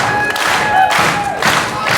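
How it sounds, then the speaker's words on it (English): A crowd at a wrestling event cheers loudly and continuously, with rising roars and a few thuds in the mix. "Crowd firmly behind Julian Ward"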